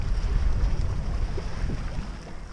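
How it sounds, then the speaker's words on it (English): Wind blows hard along the Gulf of Mexico shore at Fred Howard Park in Florida, a low steady rumble and buffeting close to the microphone with faint surf underneath. "And very windy out here"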